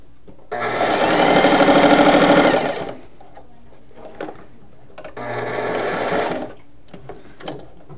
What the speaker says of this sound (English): I try to sew as close as I can, so you have to be careful because you can get off of your fabric.